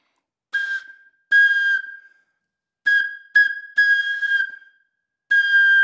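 A flute plays clear, steady notes, each begun with a crisp tongued attack. Short and longer tones come in separate bursts with silent gaps between them, close and bright.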